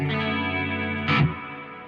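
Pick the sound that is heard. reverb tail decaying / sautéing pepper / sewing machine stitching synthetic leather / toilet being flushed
reverb tail decaying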